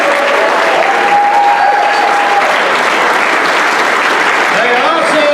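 Loud, dense audience applause and crowd noise at a USO Vet to Troops comedy show, sustained steadily and close, with some voices mixed into the clapping.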